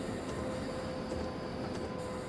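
A train in Dovetail Train Simulator 2022 brakes into a platform, with a steady mechanical rumble, a faint high whine and a few soft clicks, heard close and without talk.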